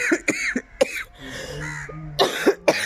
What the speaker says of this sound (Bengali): কারণ কাশি হচ্ছে খুব।